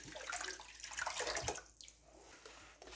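Eight cups of water poured into a pot for white vinegar pickling brine, a steady splashing, rushing flow that fills the whole clip and tapers slightly near the end, fairly close and alone.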